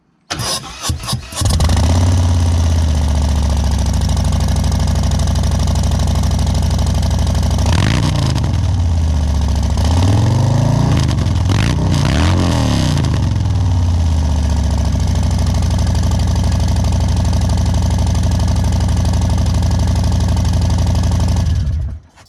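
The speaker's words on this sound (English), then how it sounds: "The exhaust is 2-in-1 shorty turnout." A motorcycle engine with a 2-into-1 shorty exhaust fires up loudly, settles into a throaty idle, then gets blipped a couple of times before cutting off abruptly.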